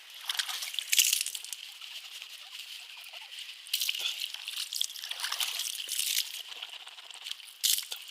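Water sloshing and gurgling in the mouth while rinsing during ablution, close and wet, in uneven bursts with short pauses between them.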